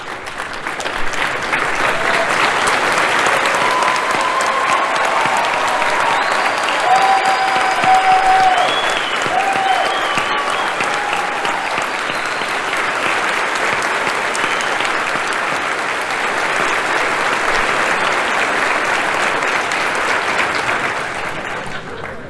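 A large convention crowd gives Pastor Mike Aus sustained, loud applause with dense clapping that holds steady for over twenty seconds, with a few faint cheers mixed in.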